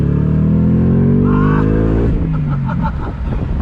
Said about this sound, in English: you definitely are gonna feel that extra performance from that supercharged engine